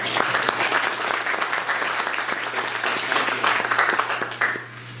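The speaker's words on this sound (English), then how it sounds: "So if you could please give them a round of applause." A church congregation applauds, dense steady clapping that holds strong for about four seconds and then thins and fades out near the end, with a low steady hum underneath.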